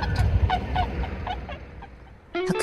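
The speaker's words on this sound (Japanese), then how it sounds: "白鳥たちの鳴き声で優雅な朝を迎えました" Swans calling on an early morning, a series of brief honking cries at moderate distance over a soft outdoor background, ending with a louder, nearer call, with no talking.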